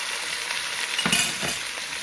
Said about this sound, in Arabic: هسه تحمس اللحم كامل والبصل والبهارات